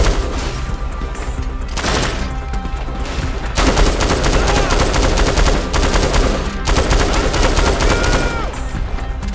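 Loud, dense gunfire in GTA V story mode, with sustained bursts of automatic weapons fire and shots crackling almost continuously throughout, briefly thinning before resuming at full intensity.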